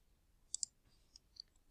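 A computer mouse button clicks a few times, quick faint taps with a couple of close double clicks against a quiet background.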